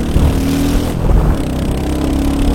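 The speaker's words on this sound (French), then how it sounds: "Là je suis en deuxième vitesse, clignotant, j'accélère." A Royal Enfield Hunter 350 motorcycle accelerates in second gear, its single-cylinder engine rumbling loud and close with a rising throb and a brief shift midway, and no talking.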